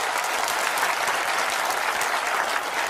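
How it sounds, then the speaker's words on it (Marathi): An audience at a political speech on saving the constitution applauds loudly, a dense, even wash of many hands clapping close by with no voices heard. "त्यांच्यासाठी दोघांसाठी एकदा टाळ्या वाजवा जोरदार"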